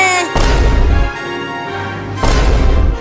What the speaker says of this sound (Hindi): तुम दोनों ने मेरे पास ही फोड़ दिया